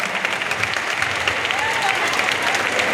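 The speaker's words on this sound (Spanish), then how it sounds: "vamos a darles lo primero de todo un aplauso muy grande" Loud, dense applause from a large crowd gathered for a Christmas lights switch-on with Deportivo de La Coruña at Marineda City in A Coruña, continuous and close, with faint cheering mixed in.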